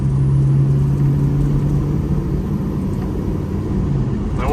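A 6.0 Powerstroke diesel truck cruising steadily at about 45 mph on light partial throttle, a continuous low engine drone and road rumble with a faint steady hum throughout; the truck has a high-pressure oil leak with long or no starts when hot.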